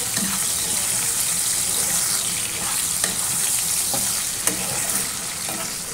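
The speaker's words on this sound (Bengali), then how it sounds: "খুব বেশি ভাজবো না, অল্প করে ভাজবো।" Food fries in a pan with a loud, steady hiss and crackle that runs throughout, with occasional faint knocks from stirring and no talking.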